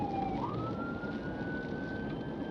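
A police car siren wails during a highway pursuit on I-16 westbound, one long rising tone sweeping upward over steady road and engine noise, moderately distant and fairly faint, with no voices.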